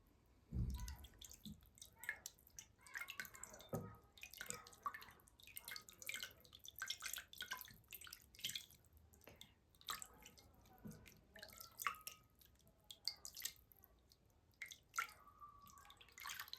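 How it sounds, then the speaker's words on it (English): Water drips and trickles in quick irregular drops, soft and close, with occasional gurgles in an otherwise quiet space. "If you like water sounds, this is probably heaven."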